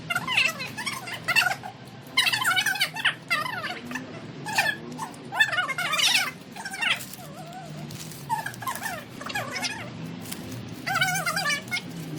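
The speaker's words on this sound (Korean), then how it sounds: "아 저기 뭐 강아지가 있네" A small puppy whimpers and yips in a busy traditional market in Wonju, its thin high cries coming in short bursts, some close and loud, amid a low crowd murmur.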